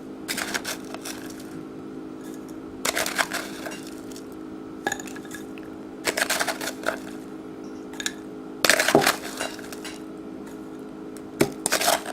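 Utensils clink against glass and dishes while halo halo ingredients are scooped, short clustered bursts of bright clinks separated by pauses, close and fairly loud, with no voices.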